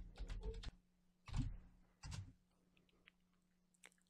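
Fingers tap out an event title on a computer keyboard in a few short bursts of quiet clicks separated by pauses, close and faint in a silent room.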